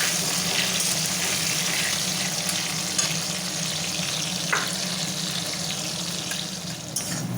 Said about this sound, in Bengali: পেঁয়াজটা একটু ভাজা ভাজা করে নিচ্ছি